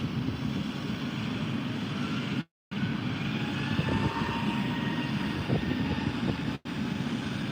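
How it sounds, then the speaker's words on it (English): Jet aircraft engine at Heathrow airport at night, a loud, sustained roar with a faint rising whine, holding steady throughout apart from two brief cut-outs. "We're going to just let that engine sound."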